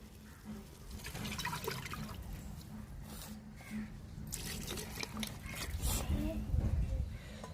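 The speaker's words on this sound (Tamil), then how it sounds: "நம்ம பிரியாணிக்கு தகுந்த வரை நம்ம தண்ணி சேர்த்துக்குருவாங்க" Water pours into a pot of beef biryani, a continuous rushing splash that grows fuller toward the end, with kitchen clatter in the background.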